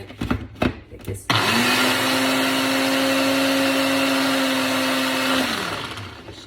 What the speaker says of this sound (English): y'all know I keep my Ninja blender